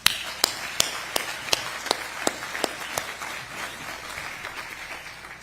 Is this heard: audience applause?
yes